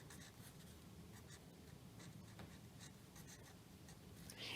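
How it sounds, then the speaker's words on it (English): A pen or pencil scratches steadily across paper as a name is written on the bottom of a watercolor batik drawing, faint and close, over a constant low hum. "I want you to go in and write your name"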